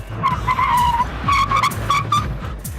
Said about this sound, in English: look what happens when I brake as hard as I can to avoid contact